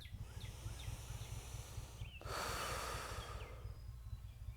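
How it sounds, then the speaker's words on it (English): A single deep breath is drawn in and pushed out close to the microphone, a soft airy inhale followed by a louder rushing exhale over a low background rumble. "let's just take a deep breath real quick"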